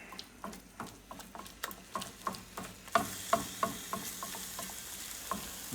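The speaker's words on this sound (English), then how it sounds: "now you can hear it already starting to sizzle a little bit" Taco meat sizzling quietly in a pan with a steady soft hiss while a utensil breaks it up, producing regular scraping taps and clicks against the pan.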